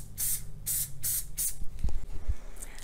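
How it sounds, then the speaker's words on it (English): Aerosol spray can hissing in four short bursts while glitter is sprayed onto an adhesive paper plate for a wine bottle gnome snowflake craft, followed by a few soft handling thumps. "I'm going to spray it up"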